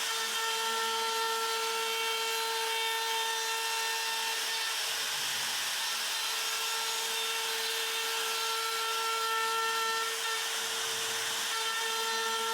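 A CNC router spins a dovetail bit through wood, cutting parts for a Super Nintendo box. It gives a steady, high-pitched whine that holds for the whole stretch, with two brief dips in the cutting noise.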